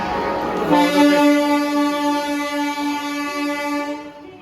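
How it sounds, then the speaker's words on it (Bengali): An Indian express train, the Howrah–NJP Vande Bharat Express, sounds a long, loud, steady horn as it departs a station platform, holding the tone for several seconds before it cuts off. "এবং এখানে ছাড়ছে হাওড়া এনজিপি বন্দে ভারত এক্সপ্রেস।"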